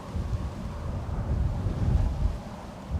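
Wind buffeting a microphone outdoors at Manchester Airport, a continuous low rumbling roar with uneven gusty swells, loud and close, with no other clear sounds.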